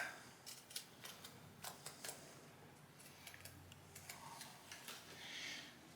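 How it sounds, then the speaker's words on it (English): Scissors snip through a vinyl patch for a tent repair, a string of quick, crisp cuts in an irregular rhythm, close and quiet over faint background hiss. "we'll just snip this out"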